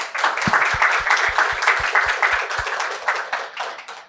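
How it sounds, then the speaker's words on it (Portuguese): An audience at a panel session applauds the panelists, a dense burst of clapping with a few loud nearby claps keeping a quick rhythm, fading toward the end. "Eu pediria aqui uma salva de aplausos para os painelistas."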